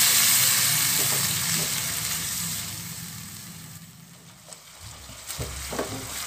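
Water poured into frying spice paste for seblak, a loud hiss and sizzle that swells at once and slowly settles into quieter bubbling, with a few stirring clatters near the end and no talking.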